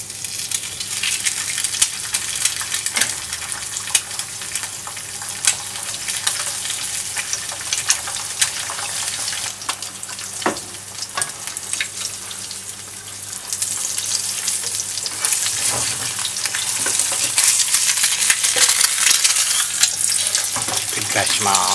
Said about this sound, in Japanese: 目玉焼きを焼いていきます。 油を敷いて、